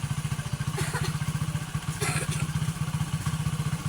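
A motorcycle engine idles steadily nearby, its rapid, even low thumping pulses running throughout with a slight rise in the middle and a light mechanical clatter on top.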